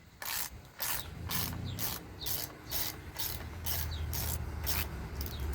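Wrench ratcheting while loosening a fuel line fitting near the carburetor on a Simpson 3100 psi pressure washer, a close, rhythmic series of clicking strokes repeating evenly throughout.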